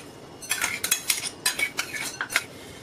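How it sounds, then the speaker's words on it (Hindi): Crushed corn kernels with ground coriander-cumin powder and chopped curry leaves stirred in a bowl for corn bhajiya batter, a series of close scraping, clinking spoon strokes in an uneven rhythm with no talking. "इसे अच्छे से मिक्स कर देंगे।"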